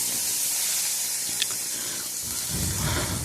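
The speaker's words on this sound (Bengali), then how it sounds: "এটার মধ্যে আমি কাজু আর কিশমিশটা ভেজে নেব" Cashews and raisins fry in a pan with a soft, steady sizzle and hiss, close by, and a brief rustle of stirring swells near the end.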